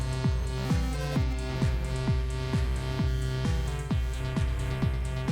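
A modular synthesizer plays repeating plucky notes with echoing delay repeats, a steady rhythmic electronic pattern playing alone.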